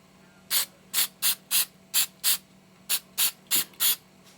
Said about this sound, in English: So I'm going to spray it with this leather sheen.